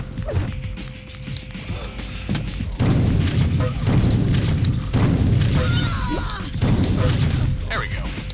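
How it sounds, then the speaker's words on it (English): Rocket launcher explosions in the arena shooter Quake 3, with heavy booming blasts landing at intervals amid constant game action, loud and close. "Getting the hang of this rocket launcher."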